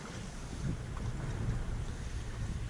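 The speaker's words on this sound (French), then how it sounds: "le vent a donné et on a remis les voiles et depuis on est sous voile" A sailboat runs under sail at sea during a night crossing to Corsica, with a low steady rush of wind and water around the hull and microphone buffeting, without talk.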